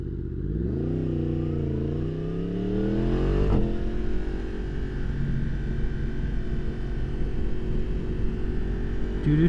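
A 2023 Yamaha MT-10 with a Leo Vince slip-on exhaust accelerates hard and close, its engine note climbing through the revs, then a gear change and a sustained loud roar as it pulls away.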